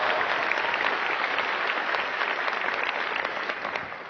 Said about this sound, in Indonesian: Mohon aplaus untuk PT Duta Network Indonesia.